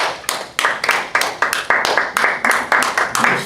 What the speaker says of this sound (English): Bruce, here's a round of applause